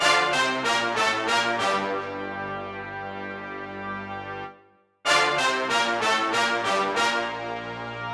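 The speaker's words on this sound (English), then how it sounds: "This is what the brass sounds like." Synthesized trumpet-like brass hits a quick run of short staccato stabs, holds a sustained chord, cuts to silence, then repeats the stabs and chord.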